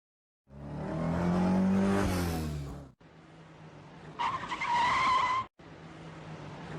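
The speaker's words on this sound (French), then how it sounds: "C'est à la hauteur de la ville de Pépin que les deux véhicules vont entrer en collision." Dramatized reconstruction of a road collision near a town, with one car skidding and a loud tire squeal rising over heavy engine noise, a sudden cut, then a second sharp squealing burst before the impact-like break.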